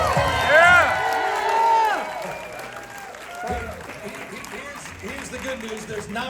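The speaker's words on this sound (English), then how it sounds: "Big round of applause for the next senator of the great state of California." Rally crowd applauding a California senate candidate, with clapping and cheers mixed with voices. Near the start a voice is heard over the crowd, and the noise then settles to a lower, steady murmur.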